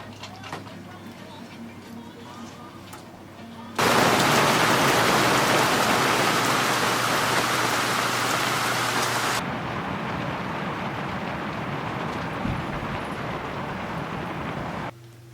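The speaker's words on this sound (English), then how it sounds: "Oh no, it's still raining again." Rain falling outdoors at a lake campsite during a Labor Day weekend tent trip, first a light patter, then a sudden loud downpour hissing for several seconds before easing to a steady moderate shower.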